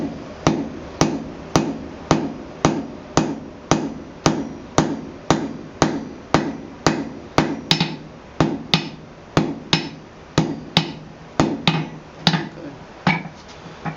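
A hammer strikes a heated rivet on a pair of Brian Brazeal-style blacksmith tongs, about twenty-five sharp metallic blows in a quick, even rhythm, close and loud, with no talking.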